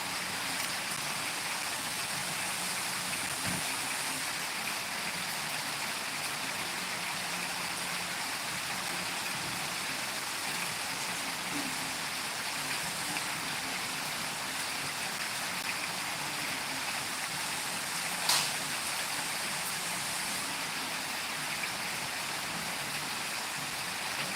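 Steady rain falling outdoors, a continuous soft hiss that stays even and moderately faint throughout, with one brief louder tap near the end.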